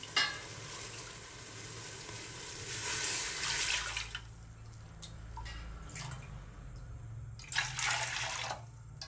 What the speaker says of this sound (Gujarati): તો ચલો હવે દૂધ એડ કરીએ